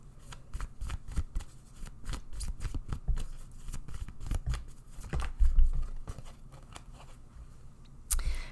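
Tarot cards being shuffled close up, with crisp riffling snaps and repeated flicks in an uneven rhythm, fairly quiet and without talk.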